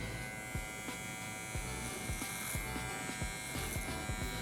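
Electric hair clipper fitted with a number 1 guard buzzing steadily at low level while marking a fade, with brief clicks and scraping strokes as it passes through hair.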